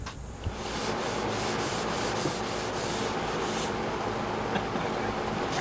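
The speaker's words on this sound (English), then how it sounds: "we're going to take it all down, give it a good sand, and get it ready to paint it" Wood being sanded on a wardrobe before painting, a continuous close abrasive rubbing with steady strokes that runs the whole time after a brief start, loud and with no voices.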